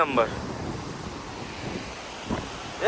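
Cold river water rushes steadily outdoors near Kasol, blended with gusty wind buffeting the microphone; a voice briefly cuts in at the start and end.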